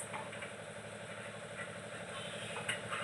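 An electric kitchen mixer grinding a ginger, garlic and coconut masala with onion and tomato, a steady droning motor whir that runs without a break and is moderately loud.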